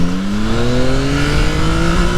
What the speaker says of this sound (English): It's such an addictive engine.